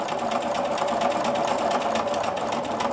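A sewing machine runs steadily while stitching a quilt along a grid line, its rapid, even needle chatter loud and close for the whole stretch, with no talking over it.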